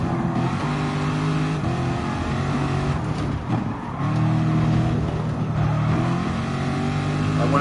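A race car engine in a PS4 racing game drones steadily at high revs, with pitch shifts as it eases off briefly and climbs again, loud and continuous.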